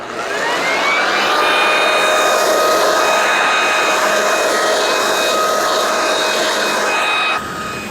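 A leaf blower blows debris off an outdoor deck, producing a loud, steady, close-up whoosh with a high motor whine that runs without a break for about seven seconds and then drops off.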